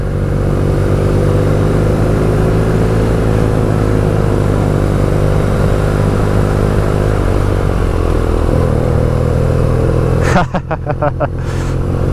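A motorcycle with a factory exhaust drones steadily while being ridden through the Cotswolds countryside, its engine note shifting and then breaking into choppier bursts near the end.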